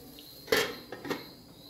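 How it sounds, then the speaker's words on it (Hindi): Lid being closed on a cooking pot with tomatoes and local fish, two quick metallic clinks close by, the second a lighter follow-up tap, in an otherwise quiet kitchen. "अभी इसको थोड़ा सा देर के लिए ढक्कन बंद कर देता हूँ"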